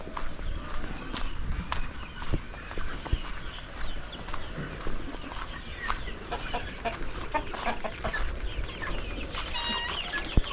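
Chickens cluck repeatedly at close range over busy farmyard background noise, with scratchy footsteps and rustling mixed in.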